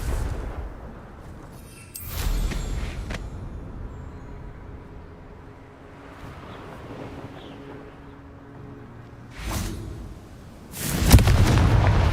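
Confringo fire-spell blasts in Hogwarts Legacy, a few loud booming explosions spaced several seconds apart, the last and heaviest near the end, over a low ambient rumble.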